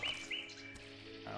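Small birds chirp in The Witcher 2 game world, giving a couple of faint, quick high tweets over a quiet ambient background.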